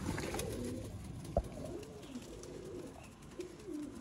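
A pair of Teddy pigeons coo low and murmuring at close range over a steady noisy background, broken by one brief sharp knock partway through.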